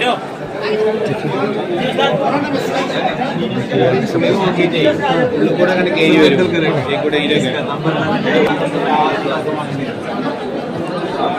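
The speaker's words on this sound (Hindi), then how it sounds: "टोकन की भीड़ लगी हुई है" Dense babble from a crowd of students queued for tokens at the Qurtuba admission test, continuous overlapping voices near and loud, with no single speaker standing out.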